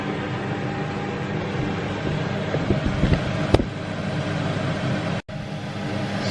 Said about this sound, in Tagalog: On lang natin ng exhaust kasi para hindi mahusok.